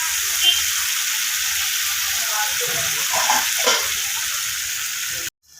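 A spice paste for a potato, eggplant and bean dish sizzles steadily in a pan, a continuous close frying hiss with light stirring that stops abruptly near the end.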